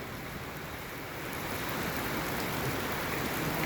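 Rain pouring over a dairy farm with buffalo, a dense, even wash of falling water that grows slightly heavier toward the end, no one speaking.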